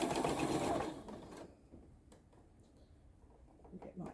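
A sewing machine stitches a crazy quilt block with a quarter-inch seam, running in a fast, close whir for over a second before stopping, followed by quiet handling sounds.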